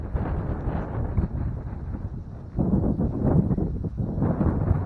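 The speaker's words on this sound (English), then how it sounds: "It's a beautiful evening though, it's just real windy." Strong wind buffets an evening campsite, a steady low roar and gusting rumble pressing close against the microphone, swelling louder partway through, with no voices.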